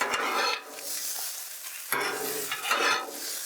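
Rice frying in oil on a Blackstone flattop is broken up with a spatula: a loud continuous sizzle punctuated by a few sharp metallic scrapes, close and with no talk.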